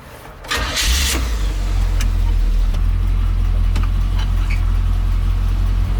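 A 1974 GMC wrecker tow truck's engine catches and settles into a loud, steady, close-up running rumble with a deep low drone for the rest of the stretch.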